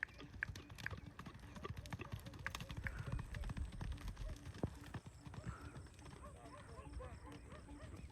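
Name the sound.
horse running, hooves clip-clopping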